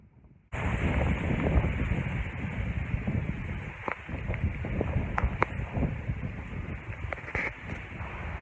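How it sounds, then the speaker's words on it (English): Strong wind roars and buffets the microphone without pause, a steady rushing gust with occasional louder bursts and no voices. "That's how windy it is."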